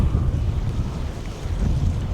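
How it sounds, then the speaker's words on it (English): Strong sea wind buffets the microphone in heavy, continuous low rumbling gusts on an exposed Anglesey shoreline in North Wales, loud and close, with no voices. "I don't know if I've mentioned the wind yet today, but it's windy"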